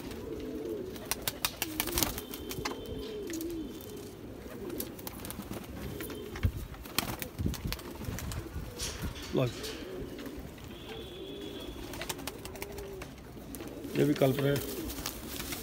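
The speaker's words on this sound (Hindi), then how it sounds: "गजरे कबूतर हैं जी।" Someone speaks while Gajra pigeons keep cooing nearby, their low repeated calls rolling underneath and between his words, growing denser near the end.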